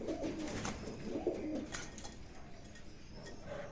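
Lakka pigeons cooing close by in low, throaty bursts, two or three coos over the first half amid soft background rustle and noise.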